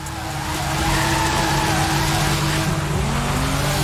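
A Nissan doing a burnout in the racing game Forza Horizon 5 gives a loud, sustained tire squeal over a roaring engine, continuous and close throughout.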